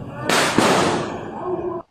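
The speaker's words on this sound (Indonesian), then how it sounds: "Sholat tarawih cepat diiringi dengan suara petasan dor-dor gitu ya." Firecrackers go off during fast tarawih prayers at an Islamic boarding school in Blitar. A loud, close blast of crackling bursts rings out for nearly two seconds, then cuts off abruptly.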